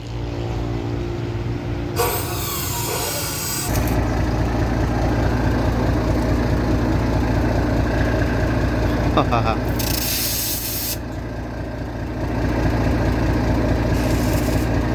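A motorcycle fitted with a new S-style exhaust tip idles with a low, steady rumble, and bursts of hissing and mechanical noise come and go over it.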